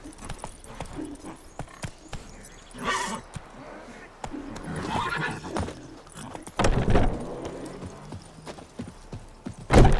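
Hooves pound from a galloping horse in The Witcher 3, uneven thuds under bursts of game noise and a rider's shouts, with one louder hit near the end.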